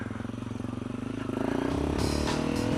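A dirt bike motorcycle engine runs and climbs in pitch as the rider pulls away, a close, loud, pulsing rasp building steadily over a few seconds.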